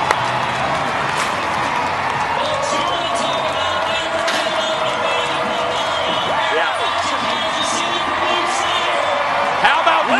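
A hometown rodeo crowd at a bull riding event in Missouri roars and cheers steadily throughout, a dense continuous wash of voices and scattered claps with a brief louder surge at the end.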